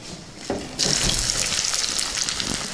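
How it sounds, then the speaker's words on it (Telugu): Onion pieces drop into hot tempering oil for a yam gravy: a soft clatter, then a sudden loud hissing sizzle bursts up and holds steady and close until the end. "ఇప్పుడు ఉల్లిపాయ ముక్కలు వేసుకుందాం."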